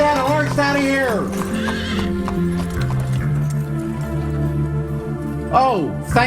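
A horse neighs in long, loud whinnies at the start and again near the end, with hooves clip-clopping and busy background noise in between.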